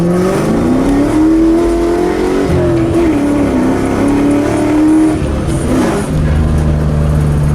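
A Ford Mustang engine revving hard under load with gear shifts, the loud close engine note climbing steadily, then dropping and climbing again at each change, with no talk.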